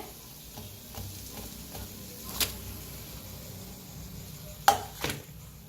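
Vadas fry in oil in a pan for kadhi vada with a faint, steady sizzle, broken by a few soft utensil taps and one sharper clink near the end, no voices.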